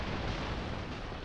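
A loud, dense explosion erupts in the side-scrolling action game Broforce, a sustained roaring burst of blast noise filling the whole brief moment without letup.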